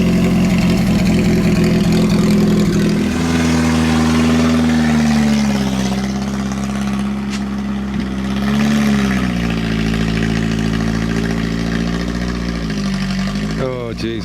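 Engine of a 1930s Citroën barn find runs and drives under its own power, a loud, close, uneven low rumble that revs up and settles, with rising pitch sweeps near the end.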